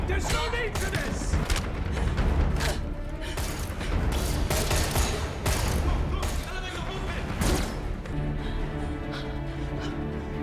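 Rapid gunfire bursts and thuds from an ambush scene in The Expanse TV show, dense and continuous over shouting voices and speech.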